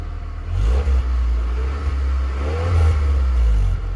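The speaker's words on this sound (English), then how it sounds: "Here, go ahead and rev it up." A Honda Accord engine, just fixed of a misfire with new spark plugs, revs up loud and close in a steady rising and falling roar, with a low rumble held under the throttle blips.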